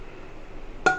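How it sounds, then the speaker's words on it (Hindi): A lid is set onto a pressure cooker holding an idli stand over a gas flame for steaming. A single short metallic clink sounds near the end, after quiet kitchen background hum. "ढक्कन लगा के"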